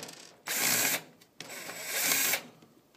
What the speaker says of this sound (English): I like to cheat with the screw gun. I use one with a clutch.